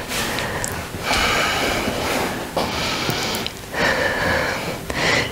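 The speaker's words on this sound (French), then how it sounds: "On pense bien à souffler. On inspire et on expire." Heavy, forceful breaths through the nose and mouth during abdominal exercises, several loud bursts of exhaling and inhaling in an irregular rhythm, close and alone without talk.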